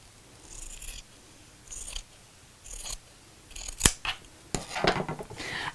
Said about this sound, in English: let's cut off this excess fabric here.